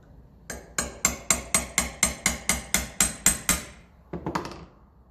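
A 1953 Ferguson 20 TEF diesel tractor part, shot-blasted and held loosely in a vise, is struck with a hammer in a steady run of about a dozen sharp metallic blows, then a brief flurry of lighter taps, close and loud.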